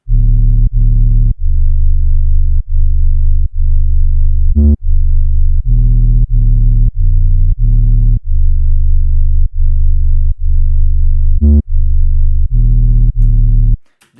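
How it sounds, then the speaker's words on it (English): Heavy clipping sub bass drum beat programmed in FL Studio, loud distorted 808-style sub hits in a steady pattern with occasional sharp snare or clap accents, played alone and very loud for about fourteen seconds. "The drums are a sub, which is clipping"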